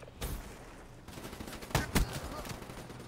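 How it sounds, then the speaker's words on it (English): A shotgun fires in a Black Ops video game, giving a few quiet blasts spread over three seconds. Two of the shots land close together near the end. "I'm putting in work with the shotgun. The shotgun is putting in work."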